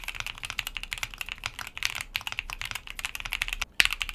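Rapid typing on an Epomaker x Createkeebs High65 V2 mechanical keyboard with stacked case and plate foam, soft muted keystrokes in quick irregular bursts, close up with no voices.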